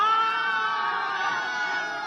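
A huge crowd of about 12,000 spectators at a Nepal versus USA one-day international cricket match roars and cheers continuously, a dense sustained wall of voices with high shouts and screams on top.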